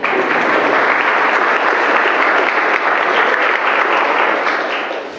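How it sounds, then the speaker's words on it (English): Wedding reception guests give a loud, sustained round of applause, dense clapping filling the room close to the microphone, fading slightly at the end. "Give him a round of applause."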